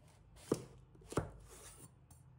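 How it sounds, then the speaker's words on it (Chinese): A knife cuts through a large papaya on a cutting board in a home kitchen, giving two distinct thuds about half a second apart, followed by a faint softer tap, all close and quiet with no talking. "这个木瓜比较大，我们来中间切1刀，"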